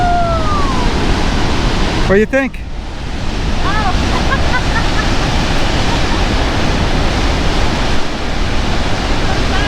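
The fast-flowing Kern River at the Teacups in the Sierra Nevada makes a loud, continuous roar of rushing water, with a brief whistle-like sound and a voice speaking over the flow.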